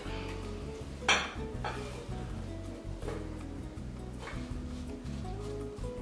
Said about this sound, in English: you just stir them up till they're all nice and covered